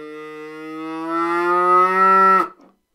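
A single reed from a cheap Pakistani bagpipe sounds inside its pipe as one sustained, buzzy, nasal tone, swelling louder for about two and a half seconds before cutting off abruptly, close and alone.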